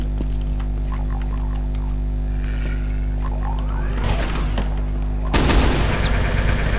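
Enemy gunfire in Brutal Doom, a FreeDoom II mod run in GZDoom, crackles in loud bursts toward the end over a steady low game hum, with quieter shots and effects earlier.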